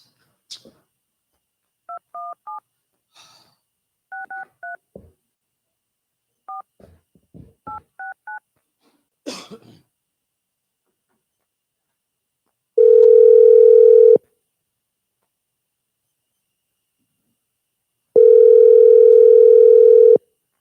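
A telephone call being placed back to a radio show, with a rapid series of short dialing tones followed by two long, loud, steady tone blasts separated by silence.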